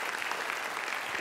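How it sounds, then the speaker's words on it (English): A conference audience at an internet marketing event in Chicago applauds speaker Mike Muhney, giving a dense, steady wash of many hands clapping together that fills the room at an even level. "So big round of applause for Mike Muhney."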